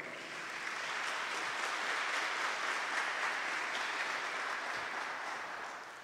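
Audience applause after a talk on Marian consecration, a steady dense wash of clapping that holds evenly for about six seconds and tapers slightly at the end, with no voices over it.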